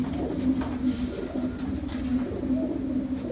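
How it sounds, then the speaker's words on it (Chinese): A racing pigeon coos softly in a low, repeated warbling rhythm, close and steady against faint background noise, with no talk. "这只鸽子就是这次下去综合第六等的鸽子"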